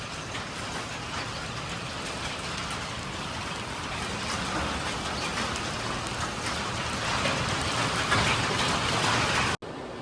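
Dense, steady patter of hail or heavy rain pelting hard surfaces, continuous and loud, with no voices.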